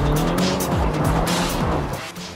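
A BMW X6 M slides on snow under throttle, its engine revving in surges while the tires squeal and skid in short bursts. The sound is loud and close, with no talking.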